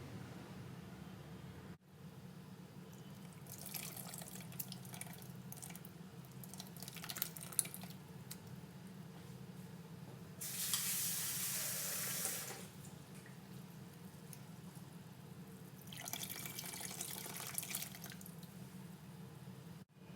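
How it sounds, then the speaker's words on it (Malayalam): Water poured into a ground tamarind fish curry mixture in a home kitchen, heard as a steady tap-like stream in several separate bursts, the loudest a few seconds long midway, over faint background hiss with no talking. "ഇനി ആവശ്യത്തിന് വെള്ളവും ചേർത്ത് കൊടുക്കണം."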